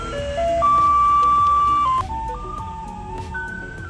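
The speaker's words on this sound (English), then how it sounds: "There's the trash truck" A garbage truck on Kinmen Island passes while playing a loud electronic jingle of sustained melodic tones, over a steady background of traffic and street noise.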